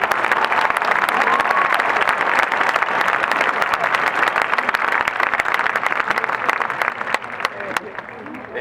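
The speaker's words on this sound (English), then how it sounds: "Let's give these students a big round of applause for their outstanding." Graduation audience at Mark's Stockdale 2016 applauding the students, a loud, dense crowd of clapping hands sustained for several seconds with a few sharper claps standing out.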